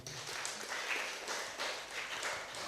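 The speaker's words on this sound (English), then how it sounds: "Give a round of applause to Kim." Audience applause at the official launch of a community enrichment organization on La Digue, a steady crowd clapping that holds evenly for a few seconds.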